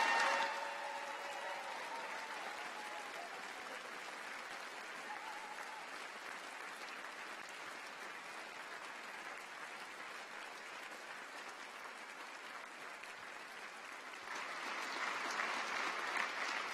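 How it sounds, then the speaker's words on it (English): Sustained applause from a graduation ceremony audience at a winter university congregation, steady clapping filling the hall for over sixteen seconds, swelling slightly at the end, with no speech over it. "Why don't we give a final round of applause for our graduates,"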